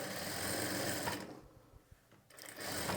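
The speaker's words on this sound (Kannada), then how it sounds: "ನೀವು ಡೈರೆಕ್ಟಾಗಿ ಒಂದು ಪಾಯಿಂಟೆಡ್ ಹೊಲಿಗೆನ ಈ ರೀತಿ ಸ್ಟಿಚ್ ಮಾಡ್ಕೊಳ್ಬೋದು" A sewing machine running a pointed stitch on piping, its steady motor whir loud at first, dropping away briefly in the middle with a few small clicks, then starting up again.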